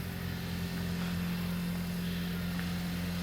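A car with a stock exhaust and catless downpipe idles after a cold start, a steady low droning hum with no revving, close and continuous throughout.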